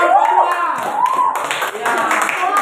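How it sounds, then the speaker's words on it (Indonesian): Classroom applause for a student discussion group, a quick run of hand claps mixed with voices talking throughout, moderately loud and close. "kasih tepuk tangan buat kelompok 2"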